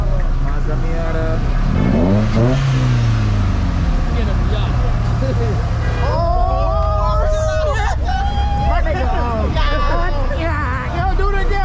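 A Mazda Miata engine revs among a crowd at a street car meet, rising and falling pitch sweeps standing out over loud, constant crowd babble and chatter nearby.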